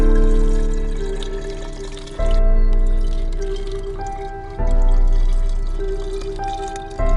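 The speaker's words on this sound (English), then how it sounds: "Beautiful pour. Look at it go." Melted crayon wax pours steadily into a mold, a continuous close liquid flow with trickling and dripping that surges louder twice as the stream thickens, no talking.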